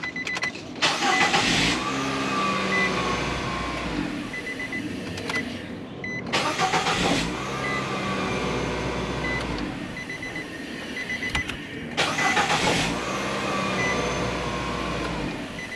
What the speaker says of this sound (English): Okay, so I'm going to start up the vehicle, make sure it works.